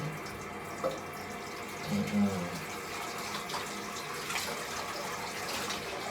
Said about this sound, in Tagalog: so simulan na natin ang paghihilamos dito sa aking bathroom